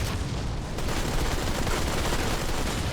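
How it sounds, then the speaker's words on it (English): Sustained, steady gunfire from a shoulder-mounted turret in the iOS game Go4MC5, a dense continuous burst of shots that fills the whole stretch at even loudness with no talk over it. "All I know is that the shoulder turret's shooting for me."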